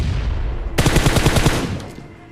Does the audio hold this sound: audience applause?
no